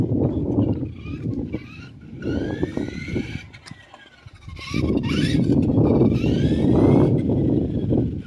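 Cold wind gusts roar against the microphone on a mountain road in Tuba, Benguet, alongside a small RC car's whining motor, easing briefly midway before surging loudly again.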